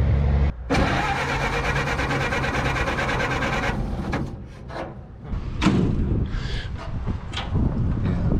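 The engine of a long-stored 1931 Ford Model A barn find cranks and catches, then runs roughly and loudly up close for several seconds before faltering into sputters and clanks.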